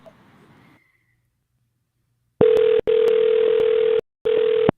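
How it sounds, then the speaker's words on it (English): A telephone ringback tone sounds on an outgoing cold call, three loud steady tone bursts with short gaps, preceded by a brief stretch of faint background noise. "Can you hear my phone ringing?"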